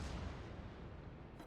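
Secondary guns of a battleship fire in World of Warships, a dense, loud, continuous boom and rumble of artillery that fills the short span without any break or voices.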